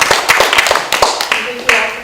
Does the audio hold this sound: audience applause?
yes